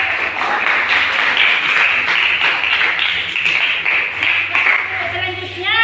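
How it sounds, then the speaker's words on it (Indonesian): Sustained applause from a classroom full of people after a group presentation, steady clapping filling the space with a murmur of voices mixed in, fading near the end. "Ya, tepuk tangan untuk"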